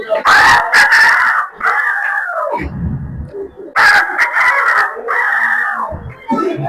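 A man imitates a rooster crowing with his voice, giving two long, loud cock-a-doodle-doo calls separated by a short pause, close and clear, as part of a stage performance of animal calls.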